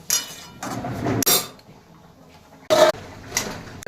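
A metal lid clanks onto a cooking pot while preparing a Bengali mung dal and banana stem dish, a few sharp metallic knocks and scrapes with quiet pauses between.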